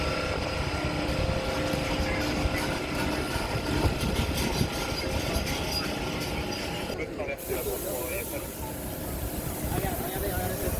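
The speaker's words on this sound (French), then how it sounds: "c'est un autre TGV Inouï qui arrive" A TGV inOui high-speed train pulling into Dax station, a steady rumbling hiss of wheels and air that drops off near the end, with people talking over it.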